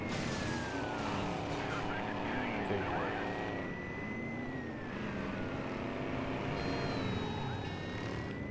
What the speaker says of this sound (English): That police car was a little delayed.